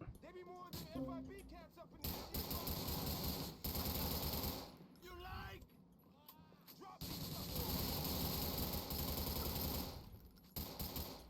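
Rifle or submachine gun fire in GTA IV, with rapid bursts of shots and explosive cracks running almost nonstop through the scene, mixed with game ambience and someone speaking in between.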